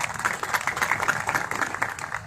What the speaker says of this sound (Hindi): अपने आप के लिए एक बार जोरदार तालियां बजाना।